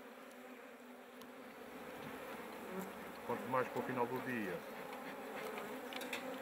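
A dense, steady hum of many honey bees buzzing close by at a hive, with someone speaking briefly in Portuguese over the swarm.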